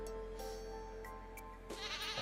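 A goat in the farming game Stardew Valley bleats, a short nasal wavering call heard faintly over steady background music.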